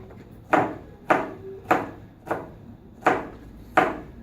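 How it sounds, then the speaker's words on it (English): Onion being chopped on a wooden board for sauerkraut: six separate, evenly spaced knife strikes land close and crisp, about one every half second, with no talk over them. "So chopping the onion."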